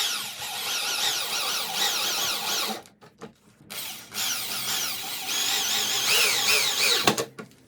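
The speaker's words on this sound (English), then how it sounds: "I will use my hammer BOSCH drill machine to tighten these screws." A Bosch hammer drill drives screws into a wooden table, whining and revving in long close bursts with warbling pitch, stopping briefly twice between runs.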